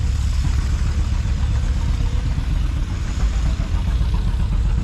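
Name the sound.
W9 vintage tractor engine running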